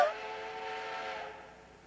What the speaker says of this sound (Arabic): وأطل قطار مقبل من بعيد.